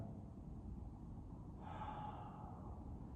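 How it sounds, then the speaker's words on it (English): A single soft breath drawn in during a lying knees-to-chest exercise, faint and brief against a quiet room hiss. "Take a breath"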